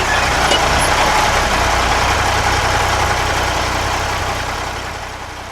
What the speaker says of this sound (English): Then the bus came and I got on.